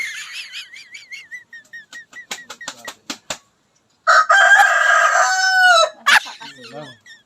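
A chicken clucks in short repeated bursts close by, followed by a loud, drawn-out crowing call and a few more clucks.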